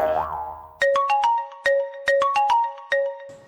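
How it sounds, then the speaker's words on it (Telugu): An electronic ringtone plays a bright repeating melody of chiming tones after a brief muffled lead-in, clear and close. "ఫోన్ రింగ్ అవుతుంది"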